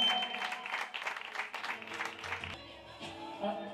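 Applause from a small crowd at a carriage-driving competition in Olite, Navarra, steady clapping for a few seconds that fades, with voices mixed in near the end.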